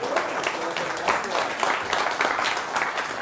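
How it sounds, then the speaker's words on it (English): An audience gives Vanessa a round of applause at a live show, brisk clapping from a modest crowd, fairly loud and even, with some voices mixed into it. "Give Vanessa a big round of applause"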